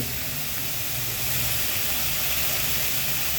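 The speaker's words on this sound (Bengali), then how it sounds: "প্রথমে তেল দিয়ে বেগুন ঢেলে" Eggplant poured into hot oil in a pan, a loud, continuous, broad hiss of sizzling that stays even and close throughout, with no talking.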